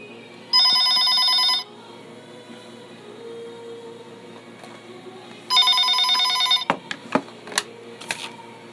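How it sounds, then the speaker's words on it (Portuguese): A telephone rings in a radio studio, two loud electronic bursts about a second long separated by several seconds of quiet, followed by brief clicks as the handset is handled. "Olha o telefone tocando"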